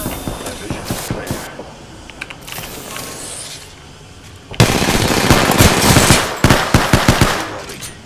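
Apex Legends gunfire crackles in quick bursts, then a dense, loud stretch of rapid automatic fire takes over the second half, with game effects between the volleys.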